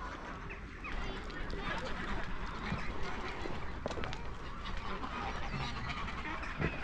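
A flock of geese honks repeatedly outdoors at moderate distance, with scattered calls over a quiet ambient background and some faint talking.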